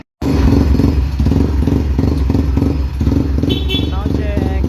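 A motorcycle engine being revved during a sound check at a tuning shop, loud and close, with rapid pulsing exhaust bursts and rising revs throughout, the engine roaring alone without speech.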